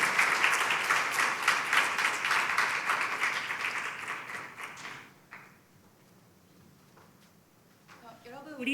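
Applause from a church youth-group audience welcoming a worship singer to a concert: dense, loud clapping for about five seconds, then fading to scattered claps and quiet room noise.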